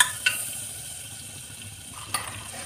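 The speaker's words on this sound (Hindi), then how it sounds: "अनसाल्टेड बटर है, उसको मेल्ट होने देंगे।" Unsalted butter melting in a pressure cooker gives a steady, soft sizzle throughout, with a couple of brief metallic clinks near the start and near the end.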